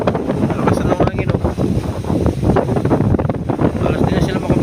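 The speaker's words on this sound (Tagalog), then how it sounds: "Kaya nung lumipat na ngayon na malakas na ng hangin" Strong wind buffets outdoors in a steady, loud roar of rumbling gusts that never lets up, with faint talk beneath it.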